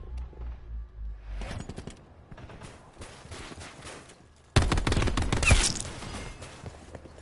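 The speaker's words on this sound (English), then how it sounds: "So that rate of fire in this gun is terrible" Gunfire from a weapon in the video game Black Ops 4, with rapid bursts of sharp shots and a louder, denser stretch of firing in the second half, mixed with game sounds.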